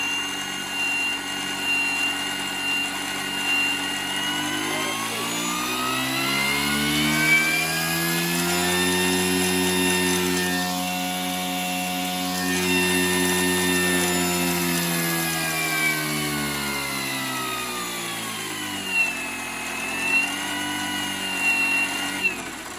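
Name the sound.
RC Bell 412 helicopter rotors spinning at idle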